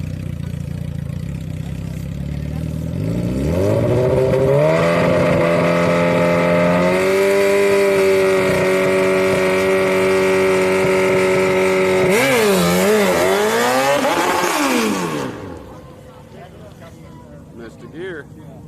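Drag racing car at a grudge race, loud engine climbing steadily in pitch, then a missed gear that makes the revs wobble and drop before the engine cuts off; people talk in the background.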